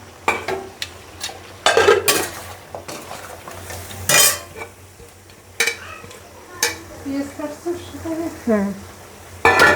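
Goat meat and onions are stirred in a metal pot, with a spoon scraping and clanking against the sides over a soft sizzle. A voice speaks briefly.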